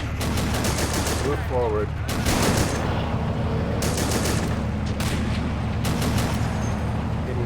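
Heavy .50 cal machine gun bursts in the WWII strategy game Assault Squad 2, loud rapid automatic fire in repeated bursts over steady battle noise, with a brief spoken line.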